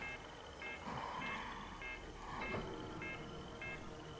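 Far Cry 6 alarm wails in a steady, repeating electronic pattern of pulsing tones, moderately loud over busy game ambience.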